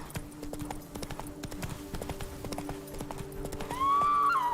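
Roach, Geralt's horse in The Witcher 3: Wild Hunt, clip-clops at a steady rhythmic walk, the hoofbeats joined near the end by a rising whinny, with no talk over it.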